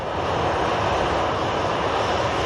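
A KLM Embraer E2 jet arriving at Manchester Airport sends out a continuous, loud engine roar that stays steady across the whole stretch.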